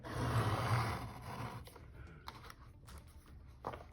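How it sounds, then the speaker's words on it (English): Paper is trimmed along a green stripe, with a handful of small crisp snips and clicks in the second half, quiet and close, after a soft rustling start. "But I am now going to trim ever so slightly right down that green"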